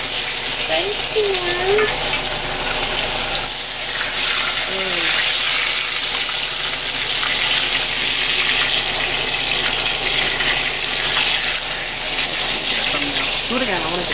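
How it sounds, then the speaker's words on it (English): A ribeye steak sizzles loudly in a hot pan while being basted, a steady dense crackling hiss that runs throughout, with brief talking over it. "Now it's time to baste that baby."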